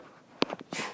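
A single sneeze bursts out in a quiet classroom during a geometry lesson, short and sharp, followed by a couple of softer breathy sounds and a rustle.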